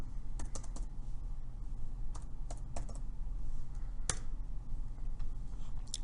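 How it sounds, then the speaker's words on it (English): Keystrokes on a computer keyboard as an asterisk and an invoice number are entered into payment software, a few quick light clicks spread unevenly over steady low background hum, close and fairly quiet, no voices. "To do this, you would type asterisk and then the invoice number."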